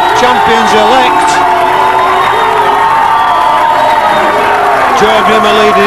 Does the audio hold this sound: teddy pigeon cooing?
no